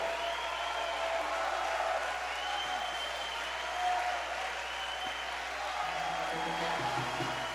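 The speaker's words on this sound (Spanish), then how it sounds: "Vamos, aplauda, pero también grite con júbilo." A church congregation at a leadership conference claps and cheers, a broad, steady wash of applause and voices filling the room throughout.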